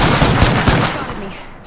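Rapid bursts of gunfire in the battle royale video game Apex Legends, loud and dense at first and then tapering into a fading tail, with a voice partly audible under the shots.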